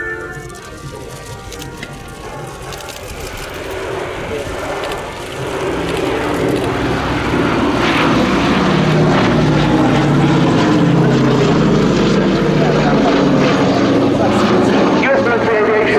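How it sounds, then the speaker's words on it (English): A B-17G Flying Fortress piston-propeller bomber passes at an air show, its loud, rising engine drone swelling steadily and filling the scene, with a commentator talking over it. "B-17G flying Fortress Sally B."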